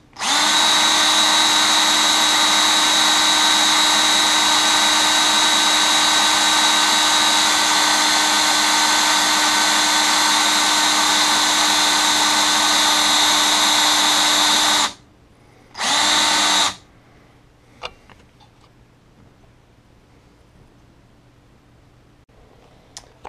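A power drill bores a hole in a Catamount Fury shotgun magazine being converted to take Saiga 12 magazines, with a loud, steady, whining motor for about fifteen seconds, then a brief second burst, then quiet handling clicks.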